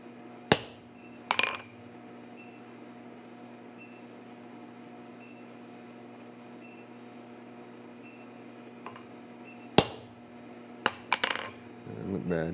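Sharp hammer strikes on hot half-inch steel bar marking a spot for punching at low heat, a few isolated metallic hits spread apart with a quiet, humming shop in between.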